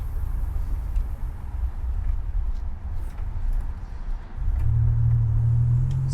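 A 1987 Buick GNX on a test drive, its engine and road noise forming a steady low rumble that swells louder near the end as the car pulls harder.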